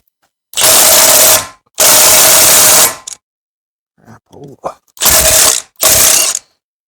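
Ratchet wrench undoing driveshaft bolts at the rear differential of a Jeep Patriot, Compass or Caliber: two long, loud clicking ratchet runs, a few short fumbling bursts, then two more rapid ratcheting runs, close to the microphone.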